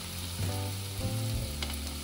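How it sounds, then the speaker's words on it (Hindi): Onions frying in a pan for shahi paneer make a steady, close sizzle throughout, with a brief scrape of stirring near the end. "हमारा प्याज थोड़ा थोड़ा भुन गया, हल्का हल्का गल गया"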